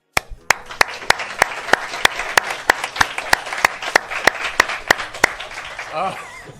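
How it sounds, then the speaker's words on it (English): Evenly spaced, sharp claps over a murmuring crowd at an awards event, with a voice starting to speak at the end. "This applause goes to all of you."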